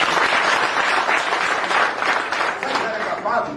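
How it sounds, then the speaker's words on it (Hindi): A crowd at a health product program claps loudly and continuously, a dense wash of applause that swells and dips slightly, with voices audible beneath it. "जोरदार तालियां बजाओ सबको।"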